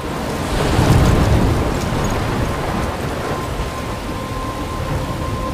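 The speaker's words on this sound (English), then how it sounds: "I'm trapped in a storm?" A thunderstorm rolls through a coastal scene in the Life is Strange video game near a lighthouse: a steady roar of heavy rain with a deep rumbling swell of thunder building early and lingering under the downpour.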